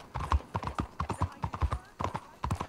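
Horse hooves clip-clopping in Red Dead Redemption 2, a quick, close, rhythmic run of hoofbeats with a person talking over them.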